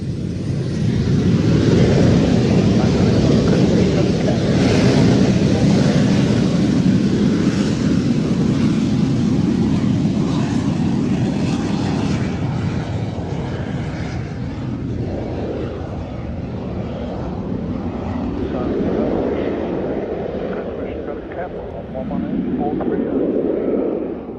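An aircraft engine in a flight simulator roars through takeoff as a loud, steady, broadband rumble that holds, then dips and swells slightly, with a voice occasionally heard over it.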